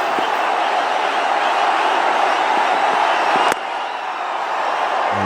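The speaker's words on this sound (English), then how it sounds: "And you can see the crowd now. They're all getting into the act." A cricket stadium crowd in Chennai roaring for Dhoni during an India v Pakistan ODI, a loud sustained wash of cheering and whoops that dips slightly near the end.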